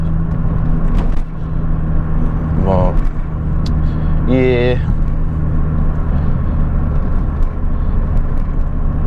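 Steady low engine and exhaust drone from a running yellow Mini with an aftermarket exhaust, loud and continuous throughout, with a brief spoken remark over it.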